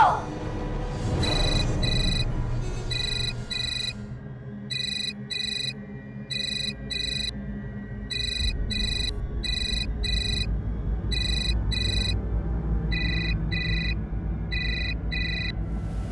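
A telephone ringtone chirps in repeated electronic bursts that go unanswered, a steady pulsing pattern lasting over ten seconds, with a low background rumble underneath.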